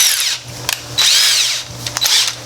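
Power drill enlarging holes to 3/16 inch for mounting tweeters in a Toyota Tacoma, with two or three short, close, high whining bursts that rise and fall as the bit cuts.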